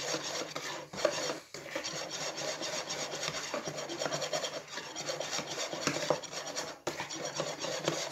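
Yeast being mixed into vegan brioche dough in a bowl, with continuous rhythmic scraping and rubbing strokes of a utensil against the bowl, close and fairly loud, broken by a few brief pauses.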